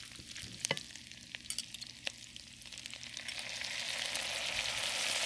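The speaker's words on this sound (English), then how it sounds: "keep browning the onion a little bit, and after that, we're gonna put some cooking wine in it" Onion browning in a pan for a pork and broccoli stir fry, with sharp scraping stirs and clicks early, then a sizzle that swells steadily louder toward the end, close by and without talk.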